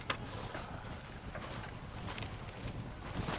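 Steady hoof clip-clops from a horse in a game, running continuously beneath a broad layer of ambient noise, with no voices.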